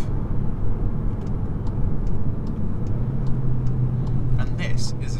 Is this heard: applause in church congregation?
no